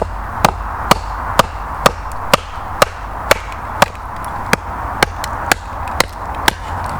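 A mallet drives a tent peg into the ground at a wild camp in the UK, sharp evenly spaced knocks repeating about twice a second, close and clear over faint outdoor background.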